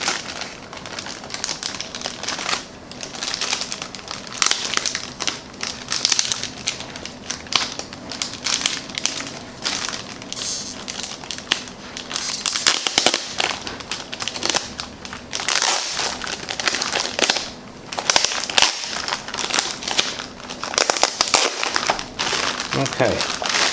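Close, continuous crinkling and crackling as tape is peeled off a plastic bag, irregular rustles and snaps running throughout, with a person talking at times.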